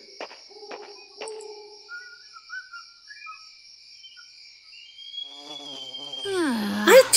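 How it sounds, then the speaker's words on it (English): Night ambience in the Fire Emblem Awakening video game: steady high insect drone with intermittent chirps and whistle-like calls, loud and close, swelling into a rising sweep at the end, no talk. "now the bugs are out. Noisy, disgusting bugs that buzz around and crawl all over"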